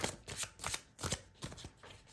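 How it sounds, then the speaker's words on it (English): Tarot cards from a Santa Muerte deck are shuffled quietly up close in several quick riffling bursts, alone with no speech. "just gonna shuffle my cards in honor of spooky season"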